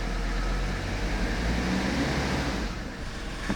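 A Mercedes 300TD with the OM617 diesel engine idles with a steady, close, continuous low rumble and a slight rise in revs, with no talking.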